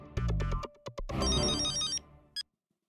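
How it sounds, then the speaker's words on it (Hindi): An old-style telephone bell rings in short bursts, several clipped rings followed by a longer ring and a final brief chime, in a quiet indoor sitcom scene from Taarak Mehta Ka Ooltah Chashmah. "मैं अब्दुल को भी फोन करके बोल देता हूँ।"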